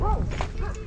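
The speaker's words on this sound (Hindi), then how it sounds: "हर जगह कुत्ते ही कुत्ते हैं यहाँ पे।" A dog on a hillside walking path in Dhanachuli, Uttarakhand gives two short yips or barks a moment apart, fairly close, over a steady background rumble.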